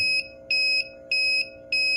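An automatic alarm on a manufacturing plant water tank sounds as the tank empties, giving a loud, steady electronic beep that pulses on and off at an even rhythm, four short bursts, close and alone.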